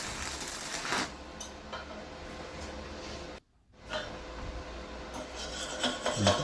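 A brush scrubs a freshly welded arc bead clean after welding at 80 amps, a near, raspy scratching that carries on steadily with one brief pause.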